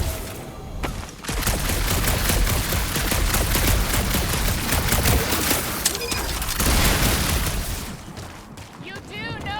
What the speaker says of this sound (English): You do know that aimless shooting isn't gonna scare the monsters away, right?